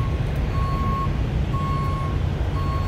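Semi truck reversing alarm at a truck stop, sounding as steady mid-pitched beeps about once a second over a constant low diesel idle rumble, with no talk.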